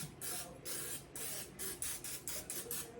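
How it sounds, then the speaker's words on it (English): Cooking spray hisses into a baking dish for apple crisp in a series of short bursts, about eight quick sprays of varying length, close and fairly quiet with no talking. "I need to spray it lightly."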